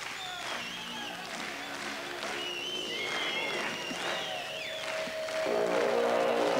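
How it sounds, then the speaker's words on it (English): Crowd applause and cheering in an indoor arena during a 1998 motorcycle trial event in Bucharest, steady and building louder toward the end, with bright whistles and a commentator's voice mixed in. "Crowd getting behind him as well now."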